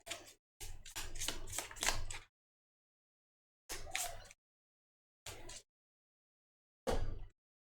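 Playing cards for the Pandemic board game are shuffled close up in several quick riffling bursts separated by short silences.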